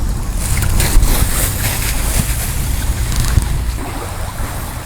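Water running in a stream near a farm stay, a steady broadband rush with a continuous low rumble, loud and close, no voices.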